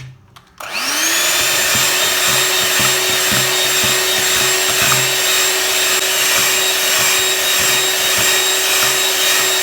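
An electric hand mixer whirs steadily and loudly through carrot cake batter with eggs, a constant motor hum with faint irregular knocks of the beaters against the bowl, starting abruptly after a brief quiet moment.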